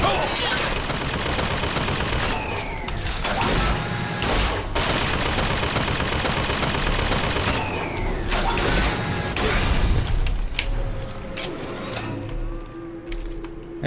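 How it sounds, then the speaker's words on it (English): Automated gun turret in BioShock Infinite: Burial at Sea firing in rapid, dense bursts, loud and close, with mechanical clatter and other game noise mixed in and a few short pauses between volleys. "Oh crap, turret."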